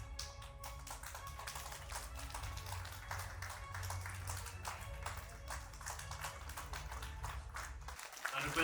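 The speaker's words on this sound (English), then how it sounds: "Let's give a huge round of applause once again for Mr. Pradeep Kurba and his team." Steady applause from an audience at a film award ceremony in Meghalaya, with dense, even clapping over a low background hum that lasts throughout.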